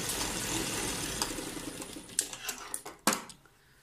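A sewing machine stitching a shirt neckline, a quiet steady whir that breaks into a few sharp, irregular clacks and bursts near the end.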